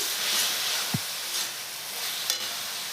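Chowmein with tomato and sauces sizzling and stirred in a hot wok, a steady soft frying hiss with a few faint scraping stirs, fairly quiet and without voices.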